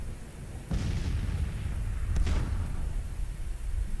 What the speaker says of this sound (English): Let's see if all of my artillery is firing